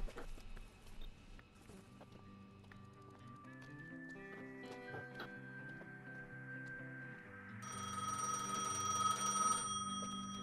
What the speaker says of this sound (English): Pick up the phone at the front.